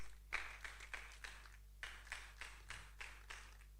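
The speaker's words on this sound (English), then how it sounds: "Please let's applaud her till she gets to her seat" Faint, sparse clapping from an audience at a career event, a handful of separate claps in slow, uneven rhythm over a steady low hum.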